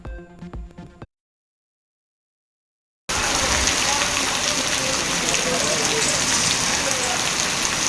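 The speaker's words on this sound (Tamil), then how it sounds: "தமிழ்நாட்டின் பல்வேறு பகுதிகளில் பரவலாக மழை." Steady, loud rain falls across a wide area in Tamil Nadu, a dense continuous hiss of drops after a brief bit of other sound and a short gap of silence.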